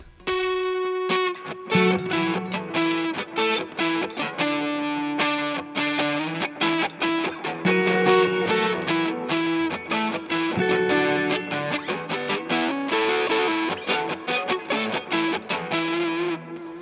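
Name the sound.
electric guitar with overdrive and reverb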